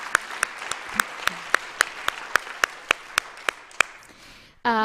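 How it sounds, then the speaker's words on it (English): A church congregation claps for its acting music director at a budget meeting, a steady sequence of about a dozen evenly spaced, fairly close claps over a soft room murmur, ending as a voice begins speaking. "feel people clapping"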